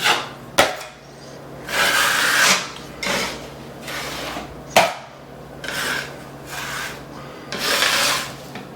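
A drywall knife spreads a thin first coat of joint compound, each pass a rasping scrape in a steady back-and-forth rhythm, close up, with a couple of sharp taps between strokes.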